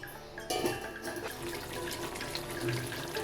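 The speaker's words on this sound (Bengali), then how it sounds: "এবার পরিমাণ মতন জল দিয়ে দিচ্ছি।" Water pours from a tap into a pot of vegetable curry with drumstick, pointed gourd and potato, a steady close splashing stream that starts abruptly and keeps running.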